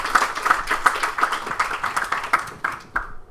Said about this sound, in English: let's give a round of applause for the speech Nat gave during the ceremony